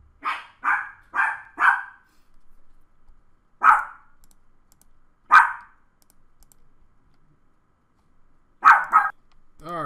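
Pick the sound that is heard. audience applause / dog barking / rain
dog barking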